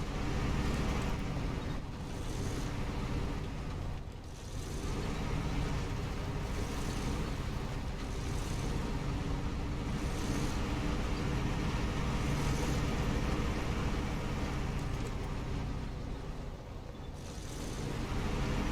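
Heavy truck engine in the SnowRunner video game, stuck in mud in the Amur region, droning steadily at full load for the whole stretch with a low rumbling roar and slight swells, no talking.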